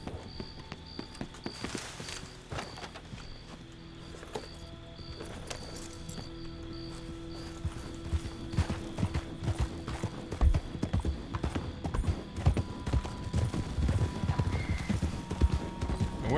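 Horse hooves clip-clop in a WildRP western game, a steady walking rhythm that stays close and fairly loud throughout, with an occasional whinny and varied ambient game sounds mixed in.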